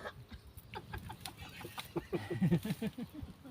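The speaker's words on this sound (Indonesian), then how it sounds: "Nek sing ngendok iki pitikmu ya pitik Jawa, iki pitik Hoden kok." Javanese free-range chickens clucking nearby, a string of short, repeated clucks and soft calls that grow louder and busier toward the end, alone without talk.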